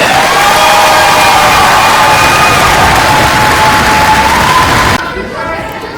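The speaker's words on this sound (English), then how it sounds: "Let's give all of our free throw shooters a big round of applause." A large school crowd cheers and applauds free throw shooters at a new K-12 school ribbon cutting, loud sustained roar of clapping, shouts and whoops that tapers off near the end.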